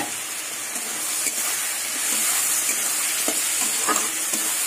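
Onion-ginger paste sizzles in a wok after a little oil is added, giving a continuous crackling hiss with a few faint scrapes of stirring.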